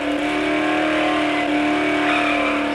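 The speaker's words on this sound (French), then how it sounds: "T'as vu comment ça braque fort là la voiture?" A car engine in the video game Dead Island drones steadily under acceleration while the vehicle steers sharply, a loud, continuous tone with no talking.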